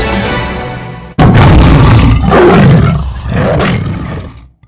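A deep, thunderous roar bursts in suddenly and very loudly, rumbling in long waves before dying away.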